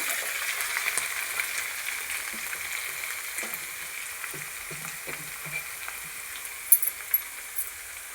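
Fenugreek stalks dropped into hot oil for homemade chili oil, giving a soft continuous sizzle and frying hiss with occasional faint clinks of a utensil.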